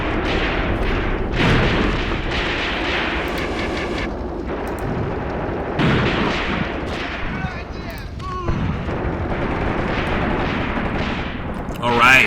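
Gunfire from infantry and machine guns in the WW2 tactics game Graviteam Tactics: Mius Front, a steady stream of shots and booms throughout, fairly loud and continuous, with someone talking over it.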